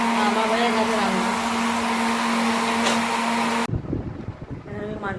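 An electric grinder grinds spices for a cauliflower dish with a loud, steady whine for several seconds, then cuts off abruptly, leaving quieter clatter and faint voices in the room.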